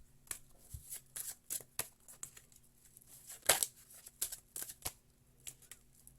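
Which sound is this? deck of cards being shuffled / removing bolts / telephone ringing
deck of cards being shuffled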